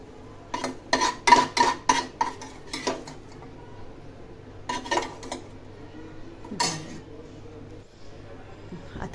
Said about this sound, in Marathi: आता ह्या पूर्ण काढून घ्यायच्यात एका प्लेटमध्ये